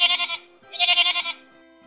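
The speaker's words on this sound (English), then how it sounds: "Now, let's talk about baby pygmy goats." Baby pygmy goats bleating, two wavering nasal cries close by, each under half a second, separated by a short pause, with no voices.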